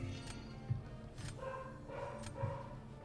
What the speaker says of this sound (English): sorry if you hear my doggy barking.